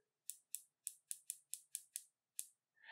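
The 120-click bezel on a Shinola Bronze Monster watch ratchets with about nine crisp, quiet clicks at an uneven pace in near silence, followed by a brief faint tone at the end.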